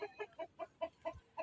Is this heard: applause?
no